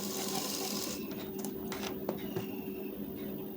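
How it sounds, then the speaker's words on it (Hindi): A foot-pedal sewing machine stitches a lined blouse with a continuous whirring run, pressed gently for slightly slower stitching, with a few faint ticks and rustles near the end. "इसमें भी एक पैर से हल्का सा कम दबाव लेकर सिलाई चलाएंगे"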